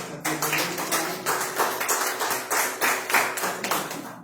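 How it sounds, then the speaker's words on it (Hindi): A church congregation claps together loudly, a steady run of overlapping hand claps in bursts, close and full, with no talk over it. "एक बार जोरदार ताली में हमारे कलीसिया के"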